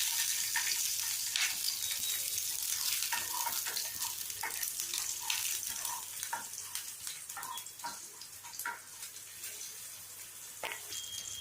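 Green chilies frying in heated oil, a close, busy sizzle with many sharp crackles and pops that thin out slightly over time, steady and unbroken with no voices.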